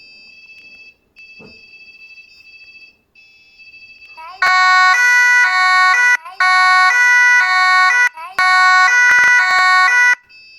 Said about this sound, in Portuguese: Ô, seu Theo, dá pro senhor desligar o alarme aí ligeirinho